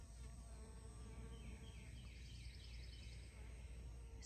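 Bees buzzing around native miniature foxgloves in a garden, a steady faint drone with passing insect hums, close to the listener, with some light talking in the background.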